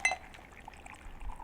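A cold cocktail poured from a shaker into a glass, a faint, close trickle with a light clink at the start, quiet and with no talk.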